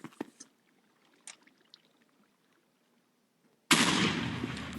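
Grenades thrown in the Minecraft Alien vs Predator mod game: a few faint clicks and taps, then a sudden loud explosive burst that roars on to the end.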